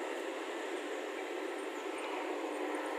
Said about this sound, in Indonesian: Dan bersamaan dengan kereta api Argo Wilis datang di stasiun Mojokerto.